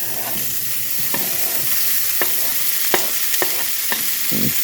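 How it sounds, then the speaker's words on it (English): Bacon fries in a very hot pan with a loud, continuous sizzle, broken by repeated scraping and stirring clicks from a utensil. "my pan is hot, hot, hot. We're going to put our bacon in there."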